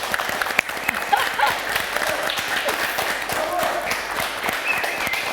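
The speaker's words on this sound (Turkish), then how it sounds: "Ay bir alkış istiyorum herkesten ya." A studio audience on a Turkish television talk show breaks into applause, a crowd clapping in a brisk, sustained patter with a few sharper claps standing out near the front.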